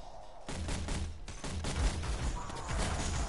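Weapon fire from the video game Anthem, a rapid run of overlapping shots and booms that carries on without a break, at a moderate level.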